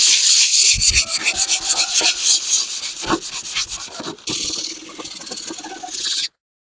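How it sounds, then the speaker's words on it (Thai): Steady rasping of 180-grit sandpaper scrubbed back and forth over a hard plastic car headlight, close and continuous with uneven strokes, then a brief pause before more sanding. "เราก็มาขัดกระดาษทรายเลยนะครับ อันนี้ผมใช้เบอร์ร้อยแปดสิบนะครับ"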